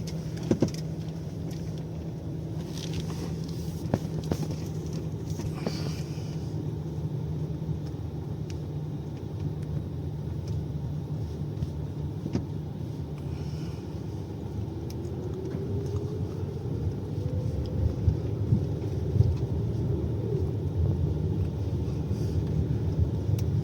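A car drives along a city street, its engine and road noise forming a steady low rumble with some wind buffeting and a tone that rises slightly partway through, continuous throughout with no talk.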